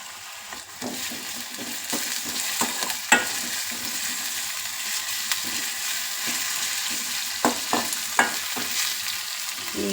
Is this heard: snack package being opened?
no